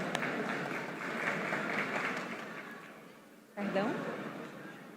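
Audience at a panel event on the iGaming market applauding a speaker, a soft, diffuse clapping that fades out, followed by someone speaking briefly.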